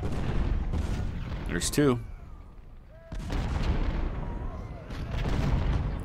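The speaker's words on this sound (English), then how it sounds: "now some of my guns are starting to fire on his infantry" Civil War-era artillery guns open fire on infantry in Ultimate General, several deep booming shots spaced a second or two apart with crackling musketry in between, heard beneath someone talking.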